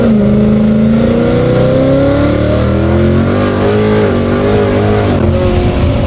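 A car fitted with a Whipple supercharger accelerates hard in manual mode, its loud, close engine note climbing steadily in pitch with a strong supercharger whine throughout.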